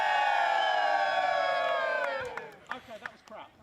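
A group cheering on cue for a photo at a disc golf championship, a loud sustained shout of many voices that falls away after about two seconds, followed by a few scattered whoops and laughs.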